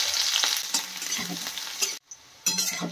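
Raw onion hits hot oil left from frying fritters before bottle gourd greens go in, a loud close sizzle with stirring scrapes, briefly cut off to near silence before the hiss resumes.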